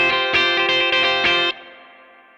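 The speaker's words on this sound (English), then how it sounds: "And I'm going to add a big old reverb to it. I'm going to start with a spring and see how that goes." Electric guitar played through a Quad Cortex with a big spring reverb, a few strummed chords ringing out loud and alone, then a long, washy reverb tail trailing off after the last chord.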